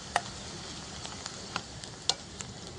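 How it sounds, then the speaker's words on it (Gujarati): Chopped onions sauté in a pan, a soft steady sizzle broken by several sharp clicks and scrapes of a spoon stirring against the pan, close by with no talking. "આપણે આવી ડુંગળી સરસ સાંતળવાની છે"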